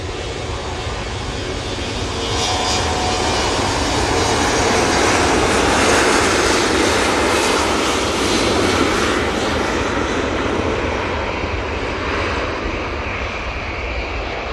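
A Finnair airliner departs Manchester Airport bound for Helsinki, its jet engines a steady, loud broadband roar that swells and holds for the whole stretch with no talk over it.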